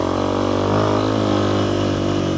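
A motorcycle engine lugs in too low a gear while riding off-road over ruts, a steady, heavy chugging hum that holds loud and even throughout without talk.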